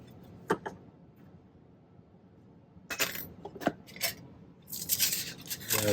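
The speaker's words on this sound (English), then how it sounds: "And I cut a little strip of this copper here." A strip of copper cut with metal shears for silversmithing, heard as a few sharp snips and clinks, near and fairly quiet, with a short pause between the cuts and no talking.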